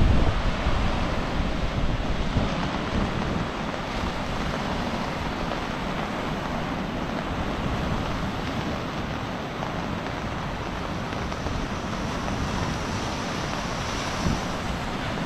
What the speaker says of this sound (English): this is not an ocean. This is Lake Michigan.